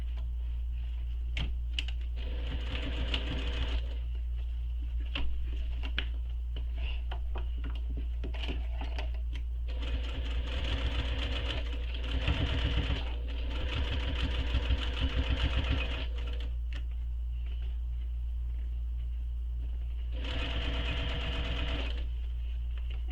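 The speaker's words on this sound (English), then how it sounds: "So we're sewing the overlay using the seam allowance given in the pattern." A sewing machine stitches a backpack overlay in several bursts of rapid, steady needle chatter separated by pauses, close and clear with no talking.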